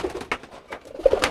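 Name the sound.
burung kolong pigeons cooing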